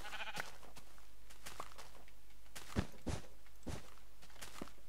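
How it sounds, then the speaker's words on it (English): A pink sheep in Minecraft Beta 1.5 gives short, quiet bleats mixed with a few soft footstep thuds, sparse and close against a near-silent background. "I found a pink sheep."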